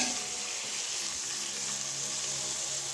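Steady sizzle of ginataang papaya with shrimp being sautéed in a pan, a continuous close frying hiss with light stirring and no talk.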